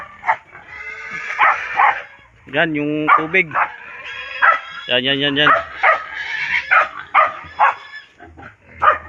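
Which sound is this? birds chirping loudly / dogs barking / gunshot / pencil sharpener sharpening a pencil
dogs barking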